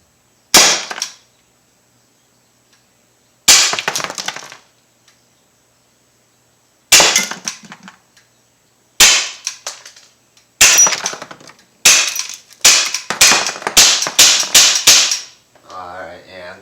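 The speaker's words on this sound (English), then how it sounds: "So let me just empty this last 8 rounds." An Umarex SA-10 .177 pellet gun fired at a wine bottle in about ten sharp cracks, widely spaced at first and then in a quicker run, each with a short ringing tail, before a brief glassy clatter at the end.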